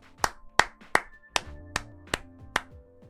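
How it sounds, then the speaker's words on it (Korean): Seven separate, sharp hand claps ring out in a slow, slightly uneven rhythm at the start of a K League football match review, each crisp and close with a faint tone lingering between them. "먼저 고생하셨다는 의미로 박수 한번 치고 시작하도록 하겠습니다."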